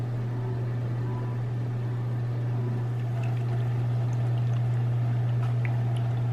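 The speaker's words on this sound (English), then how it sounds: "I'll just pour about half of that." Coffee is poured into a glass for iced coffee in a home kitchen, a soft continuous trickle running for several seconds over a steady low electrical hum.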